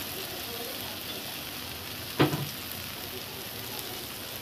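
Spices with turmeric sauté in a pan for egg and onion fry, giving a steady low sizzle, with a single clatter of a spatula or ingredient striking the pan midway.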